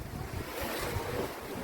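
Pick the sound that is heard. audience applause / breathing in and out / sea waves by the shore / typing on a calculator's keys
sea waves by the shore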